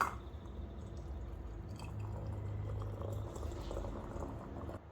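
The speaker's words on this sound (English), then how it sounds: "Just going to pour it up to the shoulder." Thick dandelion honey is poured through a funnel into a glass jar, a soft wet gurgling and squishing flow that rises slightly as it fills, close and quiet with no talk.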